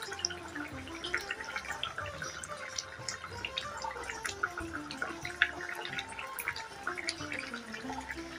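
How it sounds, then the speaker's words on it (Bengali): Fish curry with potatoes bubbles in a pan, a soft continuous simmer of small wet pops and gurgles at close range, fairly quiet and steady with no talking. "মাছের ঝোলটা আমার কিন্তু ফুটে এসছে।"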